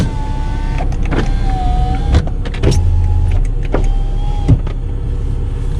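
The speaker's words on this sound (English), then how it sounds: "you have one touch for passenger and driver side windows" Porsche 987.1 Cayman one-touch power windows whir up and down several times, a steady electric motor hum with soft clicks as they stop, close and clear.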